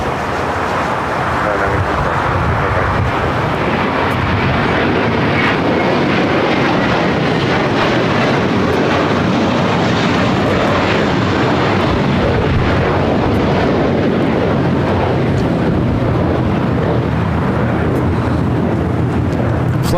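Western Global Airlines Boeing 747, flight 611 from Anchorage, arriving at LAX: a loud, steady jet engine roar sustained throughout, with faint voices now and then.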